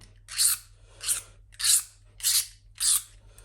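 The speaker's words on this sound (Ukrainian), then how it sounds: "Беремо трикутничок і зачищаємо." A triangular scraping tool scrubs a repair spot clean on a Hyundai Tucson plastic bumper: five rhythmic raspy strokes, evenly spaced and close, with quiet gaps and a faint hum between them.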